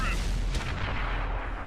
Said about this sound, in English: I'm going to put a shot in the side of his turret.